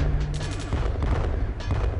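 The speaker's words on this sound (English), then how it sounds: "we can definitely use that cannon to go ahead and knock out" Cannon fire in the OTTTD tower defense game on iOS: a loud, dense run of booming shots and rattling impacts in quick succession, continuous over the short span with no voices.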